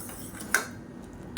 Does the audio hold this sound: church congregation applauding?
no